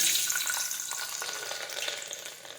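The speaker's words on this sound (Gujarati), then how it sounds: "હવે આપણું તેલ છે તે ગરમ થઈ ગયું છે હવે આપણે તેમાં લસણ નાખી દઈશું" Garlic sizzles steadily in hot oil in a home kitchen pan, a continuous bright frying hiss with light stirring and no voices.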